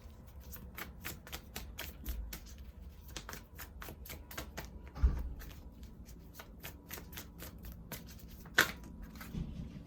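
Tarot cards being shuffled by hand in a quiet room, a rapid train of crisp close riffling snaps and taps with a couple of louder slaps, no talking.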